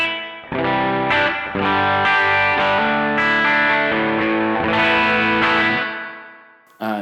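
Electric guitar chords drenched in spring reverb from a TC Electronic Arena Reverb pedal, loud and sustained with a splashy, drippy tail ringing between strums and a short silence before a final hit.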